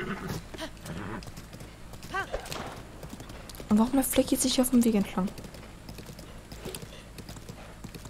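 Horse hooves clip-clop in a steady gait in the video game Zelda: Breath of the Wild, with a whinny partway through, while someone talks in German over them.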